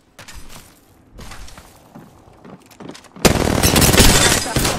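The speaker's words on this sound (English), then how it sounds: "I'm under fire." Gunfire in the video game Apex Legends: scattered shots and short bursts, then a dense, loud, sustained volley of rapid fire filling the last second and a half.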